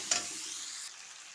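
Spices and tomato being sautéed together in a pan for chicken kosha: a short clatter opens, then a steady, close frying sizzle continues.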